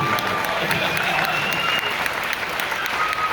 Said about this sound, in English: Yes, you can applaud that.